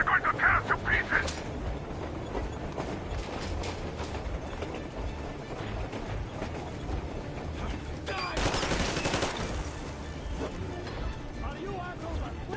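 Soldiers firing guns in Metro Exodus: a chaotic mix of scattered gunshots and bursts under shouting voices, with a louder clattering volley swelling partway through amid a rumbling, train-like background.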